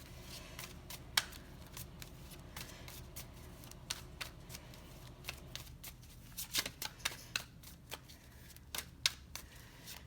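Tarot cards are shuffled and drawn from a deck up close, producing soft riffling and a run of quick, irregular card snaps and taps. There is no speech.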